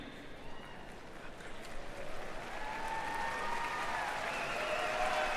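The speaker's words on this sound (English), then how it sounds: "Hold your applause." At a University of Kentucky commencement, applause in a large hall starts faint and distant, then swells into a steady, even roar of clapping that holds to the end.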